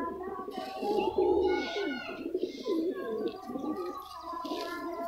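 White-eyed pigeons coo in soft, throaty, repeated phrases close by, with faint background voices and some rustling.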